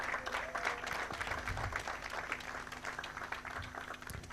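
A conference audience applauds a panelist being welcomed at an International Youth Day event, a steady, dense clapping from a crowd that holds for several seconds.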